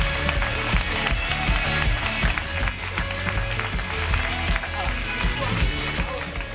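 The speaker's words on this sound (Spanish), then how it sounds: "si us plau, un fort aplaudiment per Lluís Pardo" An audience in a TV studio breaks into loud, sustained applause for an arriving guest, a dense, rhythmic clapping with some cheering that carries on at full strength throughout.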